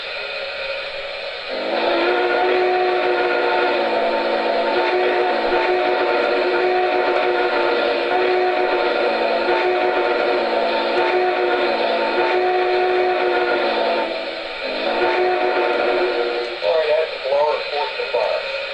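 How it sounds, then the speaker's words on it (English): Quillable whistle on an MTH Premier Southern Pacific GS-4 Northern model train, a long sustained steam-style chime whistle held steadily with slight swells, ending in a few short wavering toots. "when you hit the quillable whistle, this is what you'll get"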